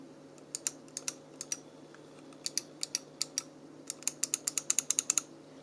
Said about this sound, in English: The tactile feedback mouse clicks, right?